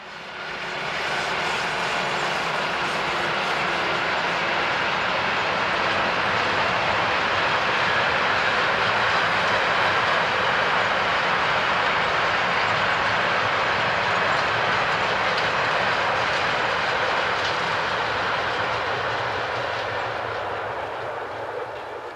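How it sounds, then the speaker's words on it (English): An MRCE Dispolok Class 182 hire locomotive, number 182526, hauls an HKX logistics train past at speed, a loud steady roar of motor and rolling wheels that swells in and fades slightly at the end, with no talk. "another MRCE Disblock hire loco, this time number 182526, currently being used by the logistics firm HKX"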